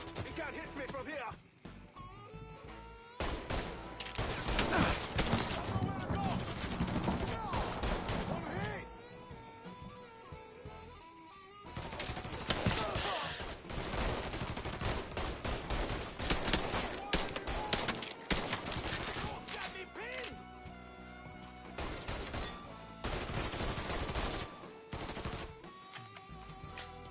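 Gunfire in the video game Mafia 3: loud, dense bursts of automatic shooting in long stretches broken by short lulls, with game characters shouting throughout the firefight.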